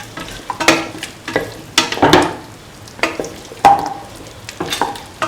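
Carrot pieces are stirred into a sizzling beef and ivy gourd stew mixture in a pan, with repeated scraping strokes and soft clatters in a loose rhythm over a low fry.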